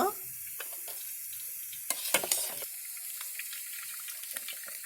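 Freshly cooked rice for Hyderabadi chicken biryani is tipped into a sieve to drain, giving a soft wet rush with a few sharp splashes and clatters near the middle, then a trickle that fades down.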